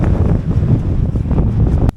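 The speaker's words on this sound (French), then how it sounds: "il y a un peu de vent finalement" Steady, loud wind in the Pyrenees buffets the microphone with a low, rumbling roar throughout, then cuts off abruptly near the end.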